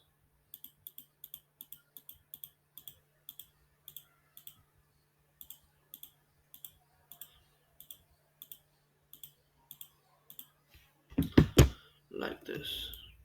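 Computer mouse clicking in image editing software, sharp close single clicks repeated in an irregular rhythm, followed by a brief louder thump of handling at the end.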